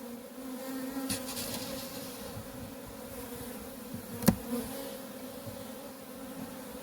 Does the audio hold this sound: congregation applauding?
no